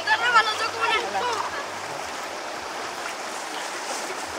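A shallow river rushes over stones, a steady close hiss of flowing water throughout, with voices talking over it at the start.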